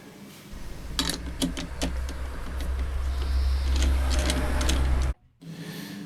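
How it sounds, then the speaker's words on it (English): Wood lathe running steadily with a low motor hum while a tool parts off a turned wooden workpiece, sharp scraping ticks scattered over the drone, then the spin cuts out abruptly near the end before resuming. "as I get near the end, I hold the workpiece with one hand as I gently part off with the other"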